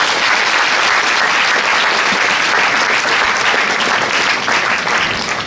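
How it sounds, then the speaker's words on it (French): A crowd at a political rally in Neuilly-sur-Seine applauds steadily and loudly, a dense wash of many hands clapping with no break for the whole stretch. "Vous pouvez l'applaudir."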